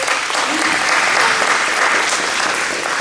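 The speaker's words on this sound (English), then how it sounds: "Big round of applause for Jumelle." Loud, sustained applause from an audience as a woman is brought to the stage at a community political gathering, a dense steady wash of clapping lasting throughout.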